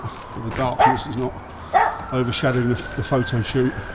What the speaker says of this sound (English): Pardon the dog barking in the background there.